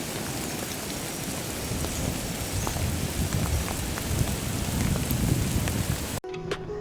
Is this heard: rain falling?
yes